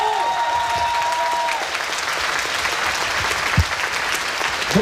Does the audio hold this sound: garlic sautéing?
no